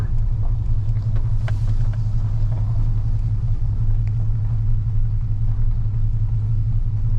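Chevrolet Silverado or GMC Sierra pickup driving after a 4L80e transmission swap, apparently stuck in first gear, a steady loud low engine and road rumble heard from inside the cab throughout.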